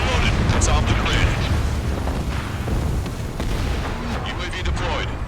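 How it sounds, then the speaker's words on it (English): An artillery shell explodes in the combat flight game Ace Combat 7, part of a dense, loud roar of booms and rumbling blasts over continuous engine noise, with radio voices speaking through it. "Shell exploded."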